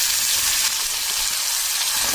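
Pointed gourd and potatoes sizzle steadily in a hot oiled pan, a loud, even frying hiss with no talk.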